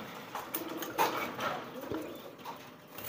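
A pigeon whose eggs have been removed coos softly nearby, low throaty calls over faint background noise and a few light knocks.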